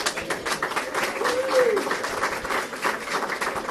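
Applause from an audience at a gala tribute dinner at a country club, steady broadband clapping that sounds moderately distant and faint, with a faint tonal chirp partway through.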